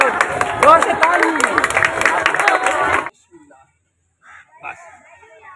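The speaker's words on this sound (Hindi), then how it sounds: "जोर से ताली" Audience applause at a magic show, a few seconds of dense clapping from a crowd that stops suddenly, followed by quiet with faint voices.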